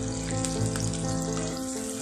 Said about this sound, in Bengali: সর্ষের তেলটা গরম হয়ে গেছে। এখানে আমি 2টো মিডিয়াম সাইজের পেঁয়াজ কুচো করে রেখেছি। এই পেঁয়াজটা দিয়ে দিলাম।